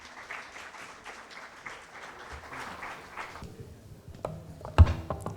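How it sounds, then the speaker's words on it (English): Audience applause welcoming a panel at an education and skilling conference, a dense patter of clapping through the first few seconds that thins out, followed by scattered sharper knocks and handling sounds near the end. "Can we please welcome them with another round of applause?"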